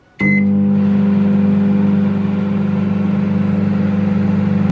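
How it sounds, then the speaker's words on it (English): A microwave oven heating oats with water starts with a short click and beep, then gives a steady, loud mechanical hum that drones on evenly with no talking. "So we're going to put this in the microwave for 2 minutes."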